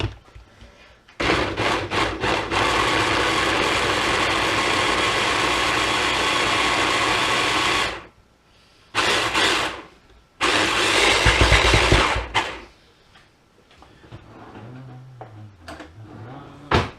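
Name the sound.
blending stew ingredients with a blender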